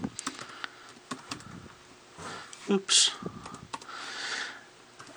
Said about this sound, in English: I am testing this keyboard.